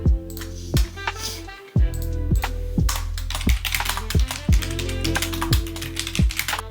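Rapid typing on a computer keyboard while writing a morning journal, with crisp, fairly loud key clicks in an uneven stream, paced by periodic heavier thumps like the space bar or a firm key, and no talking.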